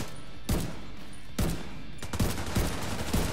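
Short bursts of light machine gun fire in The Division 2, three loud rapid volleys spaced about a second apart, the last one stretching into a longer chattering string over steady background ambience.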